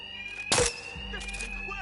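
An alarm rings in Batman: Arkham Knight as a steady, high, unbroken electronic tone under the game's action, with a short loud burst of noise partway through.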